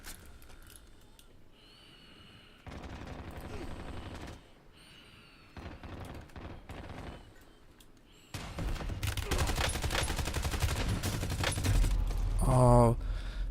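Bursts of automatic gunfire in a Warzone match, loud and rapid, coming in clustered volleys after quieter stretches of game ambience, with the heaviest, densest firing near the end.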